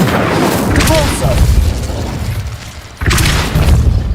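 Convulso spell cast in Hogwarts Legacy on PS5, heavy booming impacts and crackling blasts filling the clip, with a second strong burst near 3 s and a voice speaking over the din.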